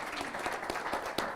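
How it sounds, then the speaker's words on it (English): Audience applause closes a panel session on research and innovation for the sustainable development goals, a dense, steady clapping from a crowd that carries on throughout at moderate volume, with a few sharper claps standing out near the end. "A round of applause for Brigitte."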